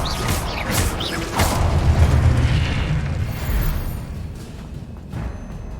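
A Confringo blasting spell from the Hogwarts Legacy video game sets off a booming explosion with a rumbling low tail, preceded by sharp magical whooshes and followed by a fading crackle.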